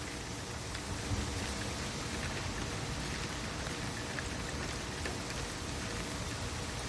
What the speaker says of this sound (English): we've been out here in the rain for about 10 minutes or so